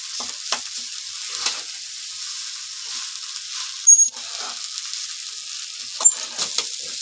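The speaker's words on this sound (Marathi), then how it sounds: "मस्त आपण मिक्स करून घेऊया आता." Leftover rice tempered in a pan is stirred and scraped with a spoon, giving soft, intermittent scraping strokes over a faint sizzle, with a couple of sharper knocks against the pan.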